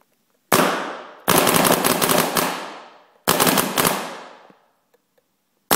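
A Marq Victory paintball marker fires three rapid bursts of sharp, cracking shots at close range, each burst ringing out briefly before a pause, with no talking.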